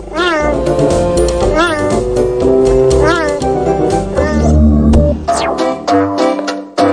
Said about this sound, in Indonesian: suara yang dikeluarkan oleh cheetah bukanlah mengaum seperti singa dan macan, namun mengeong